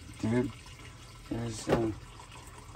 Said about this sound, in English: there's water draining out. I forgot to shut the drain.